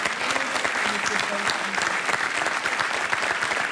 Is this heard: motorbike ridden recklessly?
no